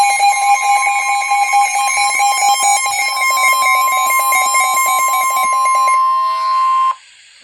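A loud, steady Emergency Alert System attention tone built from two sustained electronic pitches that sound together for about seven seconds before cutting off abruptly.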